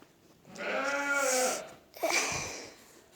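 Two bleats from a young sheep close by, a long wavering one followed by a shorter call after a brief pause.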